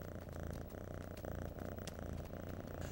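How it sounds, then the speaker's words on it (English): A lynx and an orange cat purr together in a steady, continuous low rumble, close and even in level, with no talking over it. "They're purring, Zoboo."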